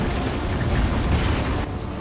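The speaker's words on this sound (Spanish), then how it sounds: "Vamos a utilizar el lanzaminas, porque eso puede hacer que le tumbe." Mine launcher explosion in Resident Evil 4, a heavy, deep booming blast that rumbles for over a second and a half before dropping off abruptly into quieter low ambience.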